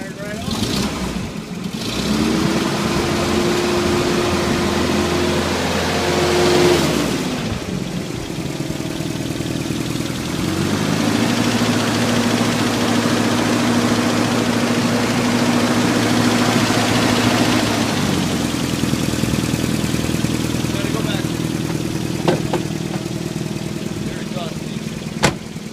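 The engine of a 1986 Toyota 4Runner runs steadily after starting, a loud close idle with a couple of rises in pitch as it revs, continuing throughout with people talking.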